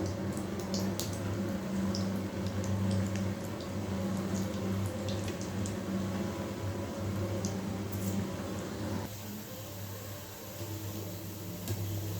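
Pitha cakes are lowered into hot oil in a home kitchen and fry with a continuous bubbling crackle, close and fairly loud, with scattered sharper pops and a slight drop in level toward the end.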